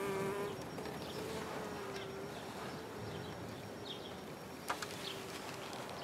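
Honey bees at a hive during a trap-out in cool weather, a faint steady drone of buzzing wings close by, with a couple of brief taps near the end.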